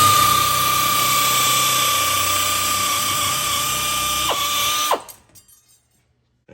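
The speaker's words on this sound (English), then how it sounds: "I'm just using this nibbler to cut a small section off this big 4x4 sheet of" A nibbler cuts a small piece from a large 4x4 sheet of aluminum with loud, close, rapid mechanical chattering and a steady whine. It runs without a break for about five seconds, then winds down and the room falls quiet.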